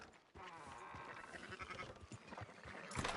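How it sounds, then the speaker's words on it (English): Sheep bleat in the Red Dead Redemption 2 video game, a wavering animal call running for a few seconds amid rustling farm-scene background noise, ending with a louder burst. "Fine sheep."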